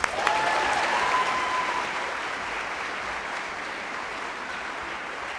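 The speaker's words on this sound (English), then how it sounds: "please join me in a round of applause for all of those people" Audience applause fills a school chorus concert hall, with steady clapping that starts loud and tapers slightly while continuing, and a brief high tone near the start.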